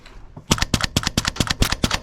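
An airsoft SCAR-L gas blowback rifle fires a quick string of about a dozen sharp, close shots in rapid, evenly spaced succession, with a little unsteadiness in the rhythm.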